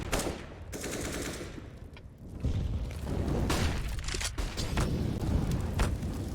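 Counter-Strike gunfire on the Vertigo map with AK rifle fire, dense loud shots and bursts that swell after a brief lull and keep going, with no talk.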